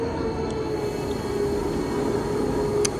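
A Swiss Alpine mountain train climbing toward the Top of Europe gives a steady low rumble heard from inside a carriage, with a constant mechanical hum and a couple of faint brief squeaks, and no one talking.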